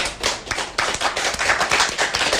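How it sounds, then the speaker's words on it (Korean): Audience applause at an outdoor campaign rally for parliamentary candidates in Dongjak, Seoul, with many hands clapping steadily and densely for the whole stretch, loud and close, without speech. "다시 한번 나경원 후보 큰 박수 보내주시기 바랍니다."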